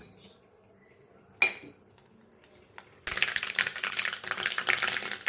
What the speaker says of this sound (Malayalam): വെളിച്ചെണ്ണ ചൂടാക്കാനായിട്ട് വെച്ചിട്ടുണ്ട് ഇതിലേക്ക് കടുക് ഇട്ട് കൊടുക്കാം